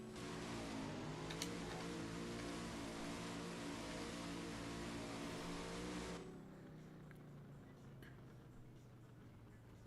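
A drag car engine in the racing game No Limit 2 revs loud and sustained for about six seconds, then the roar drops away to a quieter idling hum.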